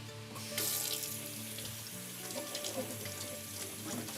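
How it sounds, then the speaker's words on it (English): Tap water runs into a kitchen sink as hands are washed, a soft steady splashing stream with oil quietly sizzling in a pan nearby. "Wash my hands."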